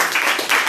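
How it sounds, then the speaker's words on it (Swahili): A church congregation at a Sunday service claps together, a brief dense burst of applause with a voice faintly beneath. "Tumpigie sasa Bwana wetu makofi mazuri zaidi kwa sababu yeye ni Mungu."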